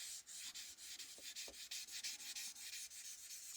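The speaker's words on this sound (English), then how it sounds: "There we go, a little bit of sanding." Fine sanding on the plastic hood of an AMT 1968 Corvair model car kit: quick, rhythmic back-and-forth rubbing strokes, close and soft, with a couple of small knocks.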